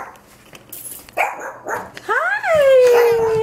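Puppies yip, whimper and let out high, rising barks up close, growing louder toward the end, with a person's voice mixed in.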